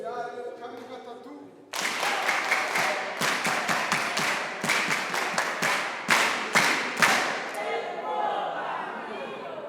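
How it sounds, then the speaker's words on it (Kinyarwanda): A crowd bursts into applause in a series of sharp, rhythmic clapping surges that follow a short stretch of speech, loud and close, then fades into a softer murmur. "Amashyi ya spesiyale kabiri gatatu."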